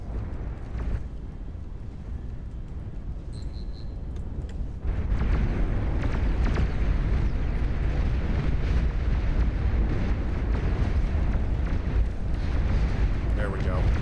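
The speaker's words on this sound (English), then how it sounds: "Annoying little nuclear missile launch." A nuclear missile launch in the strategy game Beyond All Reason begins as a quieter rumble, then a loud, sustained roaring rush of thrust sets in partway through and holds steady to the end.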